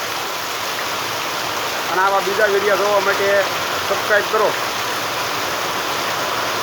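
Heavy, steady downpour pours on a farm in Lavarda, a dense continuous hiss of rain throughout, with someone speaking briefly over it in the middle.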